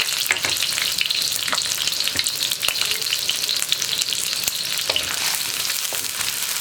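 Cut onion frying in a pan for sweet corn fried rice, a loud, dense, continuous sizzle with faint stirring scrapes throughout.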